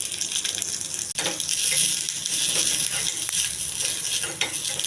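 Curry leaves, garlic, dried red chillies, chana dal, cumin and mustard seeds sizzle and crackle in hot oil as tempering for tomato chutney, a steady bright hiss with occasional pops and a clink near the start.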